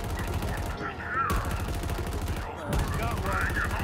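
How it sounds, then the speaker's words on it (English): Brute snipers in a Halo campaign on Legendary difficulty fire amid dense battle noise: heavy, rapid gunfire crackles almost continuously, with two sharp, loud shot bursts standing out over the steady roar of combat. "Brute snipers taking aim!"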